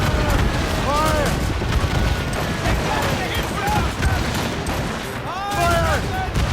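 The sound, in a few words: volley of gunfire from ships in video game Assassin's Creed Rogue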